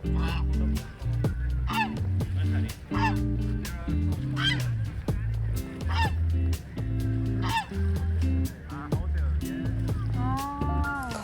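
Goose honking repeatedly while grazing on grass, loud nasal calls in irregular bursts close by, with low steady tones underneath throughout.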